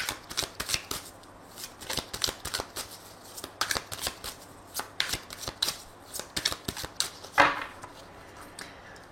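A tarot deck being shuffled close by, a rapid riffling patter of cards in repeated bursts with brief gaps and a final firmer riffle, no speech.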